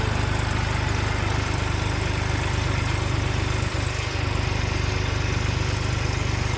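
A tractor engine runs steadily on a farm during sowing, a loud continuous low mechanical drone with a brief dip partway through, and no speech over it.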